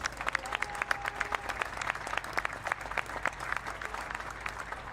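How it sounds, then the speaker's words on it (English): An audience applauds at the podium ceremony after a Porsche Carrera Cup Benelux race at Circuit Zolder, with scattered, distant-sounding claps forming a moderate, steady patter of outdoor applause throughout. "Clap your hands for Glenn van Parijs."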